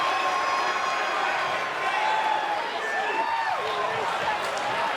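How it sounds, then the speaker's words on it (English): A Lucha Libre AAA arena crowd buzzes in a steady, dense murmur with scattered shouts and whistles, moderately loud and continuous, with a commentator talking over it. "The crowd is buzzing about what he has to say about the champ."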